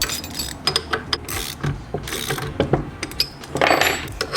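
Rapid clicking of a ratchet turning a 7 mm Allen head socket while working under an MK8 Golf R, a close, busy series of pawl clicks in short bursts with some rubbing and clatter between strokes.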